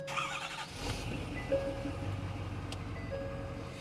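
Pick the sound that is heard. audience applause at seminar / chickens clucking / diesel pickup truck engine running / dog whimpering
diesel pickup truck engine running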